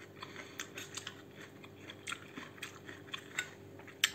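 Fresh, crunchy salad dressed with sour cream or yogurt being chewed up close, a steady series of crisp bites and crunches, quiet and intimate, with no talking.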